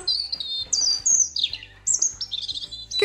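Sample birdsong played back by a smart birdhouse: a series of bright, high chirps and descending whistled phrases, several in quick succession, clear and close with no talk.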